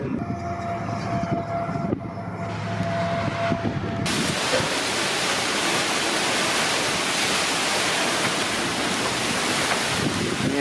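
Strong wind roars during a severe thunderstorm in the Kansas City metro area, buffeting the microphone as a loud, continuous rush after a quieter opening few seconds, with dust blowing and no talk.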